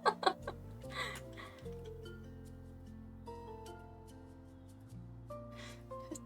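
A chicken costume clucks in House Flipper 2. A few sharp clucks come near the start, then bright tonal game music carries on alone.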